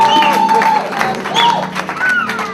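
Church congregation applauding and cheering during a service, with dense clapping and vocal exclamations filling the room at close range without a break.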